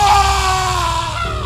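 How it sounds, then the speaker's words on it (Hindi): A drawn-out, high, wavering scream in a horror cartoon story, loud and close, tapering off near the end. "ऐसी चीख मैंने कभी नहीं सुनी थी"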